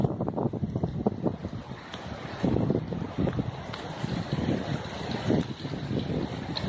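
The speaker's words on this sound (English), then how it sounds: "So it is getting windy." Gusty wind from Hurricane Dorian buffets the microphone outdoors in uneven rumbling bursts, with a constant whooshing backdrop and no speech.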